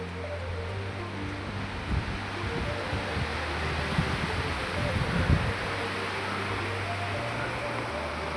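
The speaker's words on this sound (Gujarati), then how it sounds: "ઠંડો પવન આવે છે" Steady cold wind rushes and buffets across the microphone on Pavagadh hill, a broad constant roar with gusty bursts in the middle.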